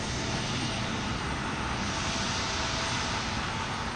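A jet airliner passes at Houston Intercontinental airport, a loud, steady broadband engine roar that fills the whole stretch at close range, with no voices over it.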